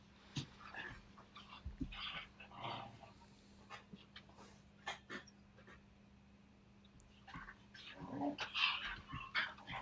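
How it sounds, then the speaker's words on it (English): Dogs play on a bed with scattered growls, whimpers and snuffling yips, bursts of rustling and bouncing between quieter pauses, close and fairly soft. "We're going to leave you with dogs having fun on a bed."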